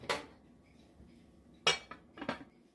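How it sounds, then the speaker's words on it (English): Metal lid set back on a pot of pulled pork, a sharp clink followed by two more clattering metallic knocks, close and clear against a quiet background. "I'm going to go ahead and replace the lid."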